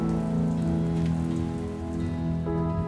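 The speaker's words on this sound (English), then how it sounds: "And a coming storm." Steady heavy rain from a storm patters on a surface, with a low droning hum underneath.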